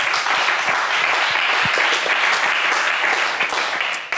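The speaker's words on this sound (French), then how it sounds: "On applaudit Fergie, s'il vous plaît." A game show studio audience claps steadily, a dense wash of applause lasting a few seconds at constant volume, with no voices.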